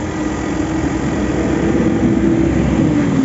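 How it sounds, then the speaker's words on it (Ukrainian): A 2017 Hyundai Ioniq hybrid's engine runs at a steady idle after starting on its own, a smooth, even low hum that holds close and constant with no voices over it. "почуємо, як працює двигун"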